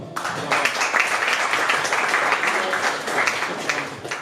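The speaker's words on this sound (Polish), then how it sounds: "wielkie brawa!" Steady audience applause greets a speaker taking the stage at a talk, a continuous wash of many hands clapping at moderate volume, briefly tapering at the end.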